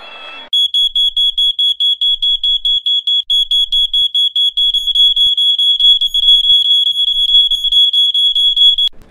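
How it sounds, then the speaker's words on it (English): A smoke alarm shrills in fast, loud, repeated high-pitched beeps that run together into a near-continuous tone, close by, with no voices. "Your smoke alarm seems to have gone off."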